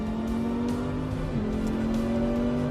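A 2017 Audi R8 race car lapping the Le Mans circuit, its engine a steady droning tone heard from onboard that dips briefly as the driver shifts down a gear, then holds on.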